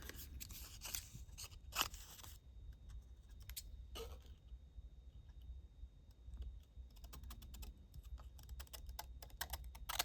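Scissors snip through paper for a junk journal, with close, crisp cutting bursts in quick clusters separated by brief quiet gaps, rising to a busy run of snips toward the end.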